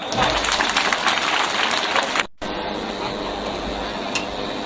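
A large audience at a national mathematics festival stage event claps loudly in a dense, sustained burst, dropping out briefly midway and then resuming steadily.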